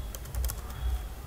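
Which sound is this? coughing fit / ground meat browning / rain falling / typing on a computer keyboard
typing on a computer keyboard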